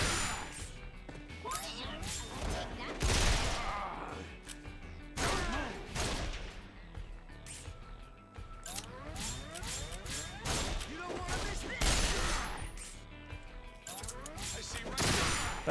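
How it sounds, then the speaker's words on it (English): Enemy gunfire during a battle in the video game Resonance of Fate, with bursts of shots, crashes and impacts repeating through a dense, loud game soundtrack. "there's this doofus here shooting at us"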